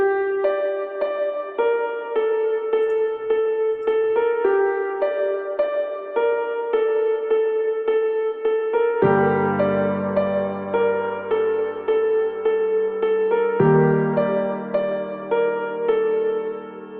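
Native Instruments Kontakt virtual piano playing soft, spacious sustained chords, a calm sequence of notes with deeper bass chords entering partway through, clear and alone.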